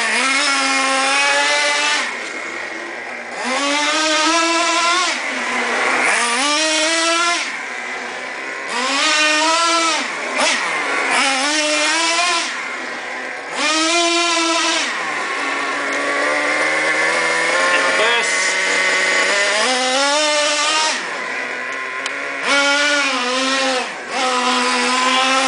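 A Traxxas T-Maxx 3-channel nitro RC car engine runs at close range for the whole stretch, its high buzzing whine rising and falling in repeated revving sweeps as the throttle opens and closes.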